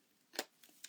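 Scissors trimming the edge of a stamped paper card, one crisp snip followed by two fainter cuts, close and quiet with no talking.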